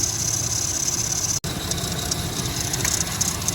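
A car's air conditioning compressor runs with the engine idling, giving a steady mechanical hum and high whine, close and continuous, with one brief dropout partway through.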